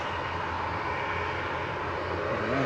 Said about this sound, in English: Oh, loud prop time.